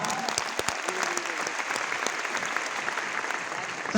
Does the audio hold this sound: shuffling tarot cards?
no